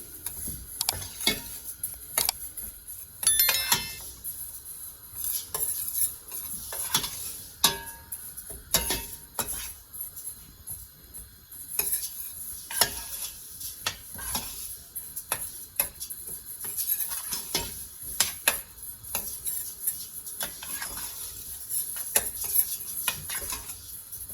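Sesame seeds dry roasting in a pan for Turkish halva, stirred with a utensil that gives a rapid irregular run of dry scrapes, clicks and light taps against the metal, with no sizzle of oil.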